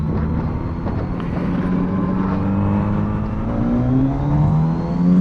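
Kawasaki Z900RS motorcycle engine pulling under throttle on a cool-weather ride, a loud close drone whose pitch climbs steadily through the gears, with wind rush and no talk.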